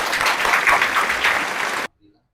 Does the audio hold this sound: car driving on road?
no